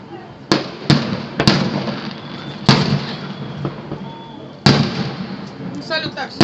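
Festive city-day fireworks salute in Kolomna, with sharp booming bursts at irregular intervals, some crackling after each, heard from a distance while onlookers chat nearby.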